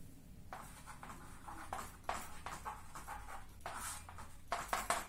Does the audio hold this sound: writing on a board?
yes